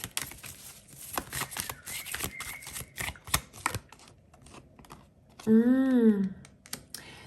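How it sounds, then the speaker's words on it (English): Tarot cards are handled and shuffled in quick rustling, clicking bursts, with a brief spoken voice partway through. "every time I pick up the cards to shuffle, why is this so messy?"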